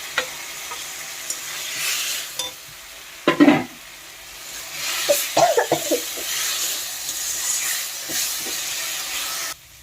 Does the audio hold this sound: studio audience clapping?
no